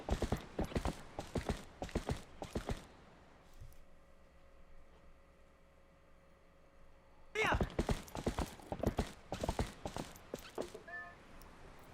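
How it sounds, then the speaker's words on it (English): Horse hooves clip-clop at a steady rhythm while riding through Zelda: Twilight Princess, with a quieter stretch of ambient game music in the middle and the hoofbeats returning strongly afterward. "And also back to riding a horse,"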